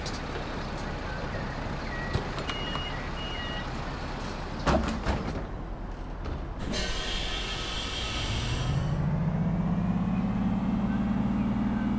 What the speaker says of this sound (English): the bus sounds quite nice though